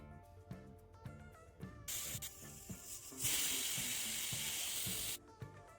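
A pressure cooker holding pav bhaji vegetables with beetroot and salted water lets off a loud, continuous steam hiss lasting about three seconds, rising partway through and then cutting off abruptly, with soft rhythmic music underneath.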